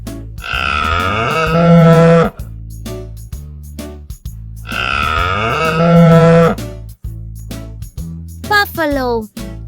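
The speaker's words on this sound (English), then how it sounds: "Buffalo." A buffalo gives two long, loud, harmonic grunting moos in a row, with a brief higher-pitched call at the end.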